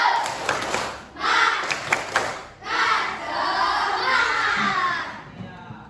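A group of children does a spirit clap chant, clapping in rhythmic bursts while chanting loudly together in Indonesian, with brief pauses between phrases.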